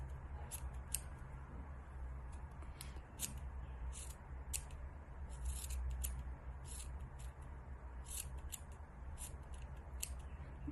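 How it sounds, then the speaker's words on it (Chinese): Scissors trimming the thread of a velvet flower into pointed ends, with a quick series of short crisp snips at an uneven pace, close and fairly quiet, alone with no talk. "修剪的时候两头打尖，有这种尖尖的弧度，"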